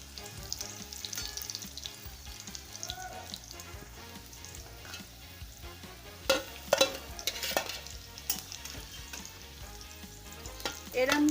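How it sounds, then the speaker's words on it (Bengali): Papad stuffed with filling sputtering in hot oil, a close, steady frying sizzle broken by a few sharp crackling bursts and scraping sounds near the end, with no speech. "এরমভাবে সবকটা পুরভরা পাঁপড় ভেজে নিই।"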